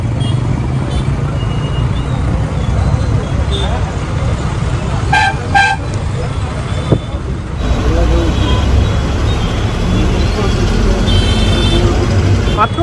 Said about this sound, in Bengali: এইটা হচ্ছে পুরো বাস স্ট্যান্ড এরিয়া